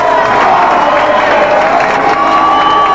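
Rugby league stadium crowd at a 1993 Keighley Cougars versus Batley match cheering loudly as the team comes out, a dense continuous roar with shouts and whoops and no letup.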